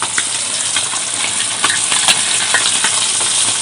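Fish frying in a pan over a wood-fired stove, with a loud, dense sizzle and hiss close up, plus scattered clinks and scrapes from stirring and no talk.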